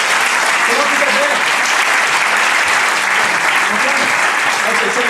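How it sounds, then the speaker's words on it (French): A comedy show audience applauds a volunteer called up on stage, loud, dense and sustained clapping from a large crowd that fills the whole stretch, with talk faintly underneath. "Mesdames et messieurs, on peut l'applaudir très très fort."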